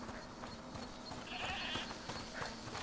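A goat bleats in the video game A Plague Tale Requiem, a short, quiet bleat over soft game ambience with faint clopping.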